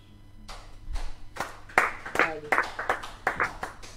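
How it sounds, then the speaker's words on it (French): A church congregation claps together in praise, scattered at first and then building into a steady run of sharp, close handclaps, with a brief voice in between. "Acclamons le Seigneur."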